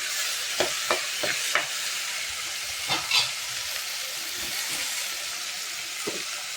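Tomato rice ingredients sauté in a pan with a steady, bright sizzling hiss, broken by a handful of sharp scraping stirs early on and a few more later.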